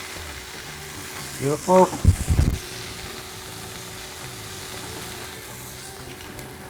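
Vegetables frying in a pan with a little salt and pepper, giving a soft steady sizzle beneath a brief burst of clattering and stirring, with someone speaking briefly.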